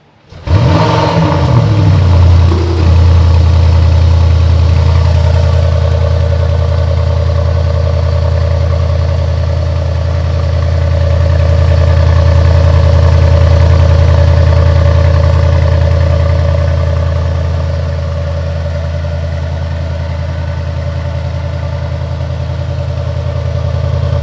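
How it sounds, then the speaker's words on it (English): A 2025 Mercedes-AMG GLE 63 S Coupe V8 engine cold-starts, cranking and firing with a loud rev, then settles into a steady, throaty idle that hums on at a high, even level. "now let's start the car and listen to the cold start"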